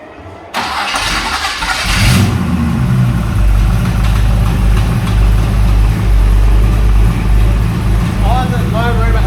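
A Chevy 350 V8 fitted in an HQ Holden ute cranks and fires up, then roars loudly and revs up close, settling into a rough, throbbing run.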